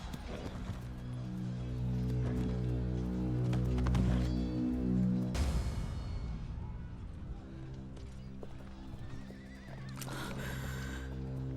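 Horse hooves clip-clop steadily under loud dramatic score in a TV drama, with a horse neighing partway through and a swelling musical hit, the hoofbeats fairly close but partly masked by the music.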